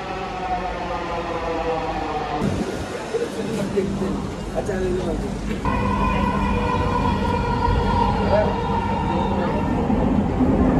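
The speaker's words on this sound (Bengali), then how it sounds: "ট্রেন চলে এসেছে। সো আমরা এখন মতিঝিলের জন্য ট্রেনে উঠবো।" A Dhaka Metro train rumbles and hums nearby, its tone shifting as it pulls in, with people talking over the steady mechanical drone.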